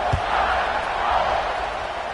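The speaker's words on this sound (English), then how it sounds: "this crowd is buzzing after that last score." A stadium crowd buzzes in the College Football 26 video game, a steady dense roar of many voices that holds at an even level throughout.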